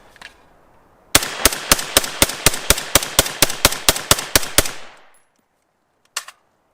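A K-Spec rifle fires 15 rounds of 5.56 in a rapid string of sharp, loud cracks lasting about four seconds, with a final distant pop a moment later.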